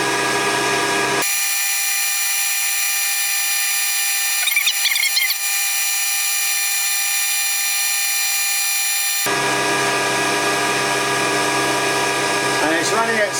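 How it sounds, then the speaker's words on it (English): A metal lathe turns at 660 RPM, taking a slow-feed cut on a hex with a tipped tool, a loud steady mechanical whine with the tone dropping out midway before resuming. "Slow feed because I'm taking a cut on the hex."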